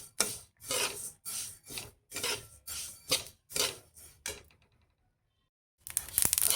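Sesame seeds are dry-roasted over low heat and stirred in a pan, giving a series of rhythmic raspy scraping strokes, then a brief pause and a final louder scrape.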